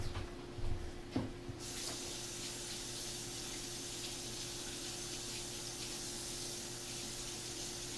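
Tap water runs steadily over a quarter cup's worth of celery in a kitchen sink, with a faint handling knock at the start before the broad, even rush continues alone.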